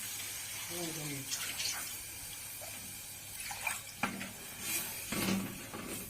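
Water is poured into a pot of tomato sauce for Egyptian koshari, giving a brief splashing pour amid kitchen clatter, with someone speaking softly nearby.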